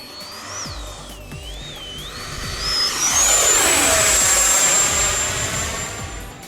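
A Freewing F-16 70mm EDF radio-control jet flies in to land, its ducted-fan whine wavering and rising in pitch as it approaches, then holding a loud, steady high scream overhead.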